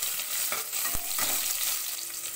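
Chopped onions sizzle in a hot pan for omelette pepper gravy, with a steady broadband fry and a few soft stirring scrapes partway through, close and moderately loud.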